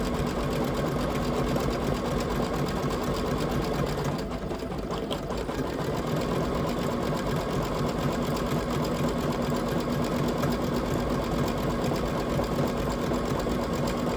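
A sewing machine stitching an embroidered centerpiece runs in a loud, steady, rapid mechanical whir with a constant rhythmic needle clatter, close and uninterrupted, with only a brief dip in texture near the start and no talking.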